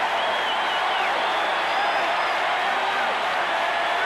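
A crowd at a 1985 World Series baseball game cheers and murmurs with a steady, wide wash of distant noise that swells slightly, with faint whistles rising above it.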